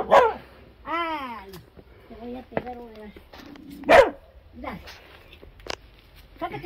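A dog barks and whimpers in short, loud yips and whines, with a few sharper bursts, while people talk nearby in a domestic setting.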